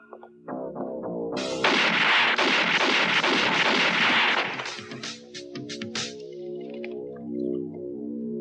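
Gunfire in a French-dubbed action film: a dense volley of rapid sharp bursts for several seconds, layered over sustained tonal music that carries on after the shots fade.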